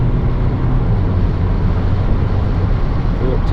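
A car accelerates on a dual carriageway toward the 70 mph limit, heard from inside as a loud, steady roar of engine, tyre and wind noise with no break.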